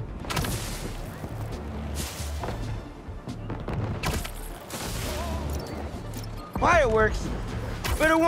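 Fireworks pop and crackle in a Marvel's Spider-Man 2 city scene, a run of sharp bursts over a busy game soundscape, with a louder whistling, crackling flurry toward the end.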